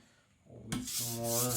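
A custom chopper knife is sharpened on water-wetted whetstones: after a brief quiet start, a steady, close scraping rub of steel on stone begins and continues to the end.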